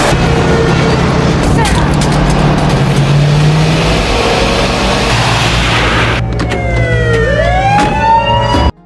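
Police sirens wail loudly as cars surround a vehicle on a highway, with engines and a revving car under a dense dramatic mix, the sirens sweeping up and down near the end.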